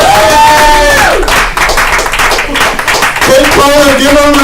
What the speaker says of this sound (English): Kate Cullen, give her a round of applause.